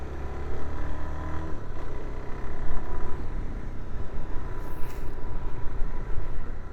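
Suzuki DR-Z4S motorcycle engine heard while riding, a steady loud drone with wind rush and a slight shift in pitch as the rider changes gear.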